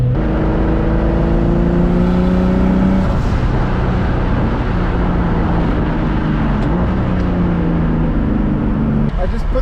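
A turbocharged BMW M50 engine in an E30 car drones loudly and steadily from inside the cabin, with a rising whine that fades and returns under constant road and engine noise.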